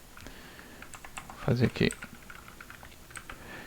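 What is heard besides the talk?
typing on a computer keyboard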